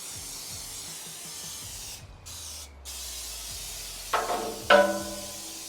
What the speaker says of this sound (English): We're gonna spray it down, then put it back in, and then fire it up